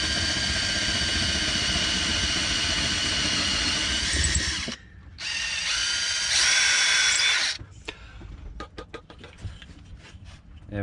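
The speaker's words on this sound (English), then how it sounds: "We're drilling through the deck." Power drill boring through the hardwood deck of a sailing boat, a loud continuous whining grind for several seconds, a brief pause, then another shrill burst before the motor winds down into intermittent clicks and rattles.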